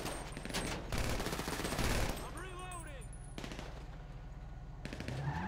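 Automatic gunfire from GTA V Online rattles in rapid bursts at close range, with a brief tonal electronic sweep in the middle and a dense game mix underneath.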